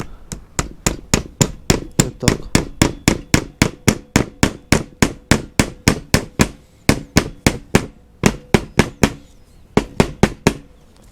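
Rapid, steady taps of a small hammer pressing wood ring out, dozens of sharp hits in quick rhythm with brief pauses, close by; a voice briefly speaks.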